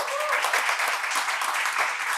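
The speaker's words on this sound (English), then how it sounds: "I think we should give you a round of applause." Audience applause at an art fair talk in Johannesburg, a steady dense wash of many hands clapping throughout, fairly loud and unbroken with no talk over it.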